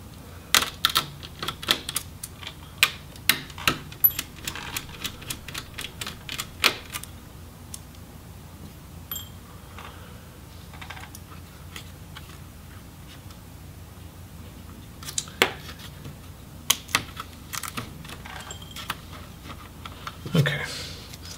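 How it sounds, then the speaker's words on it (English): Small screws being removed from an Acer Aspire V17 Nitro laptop motherboard, heard as irregular close clicks and light ticks of a screwdriver in sparse bursts, with quiet stretches in between. "And we can go ahead and also remove the screws for the motherboard."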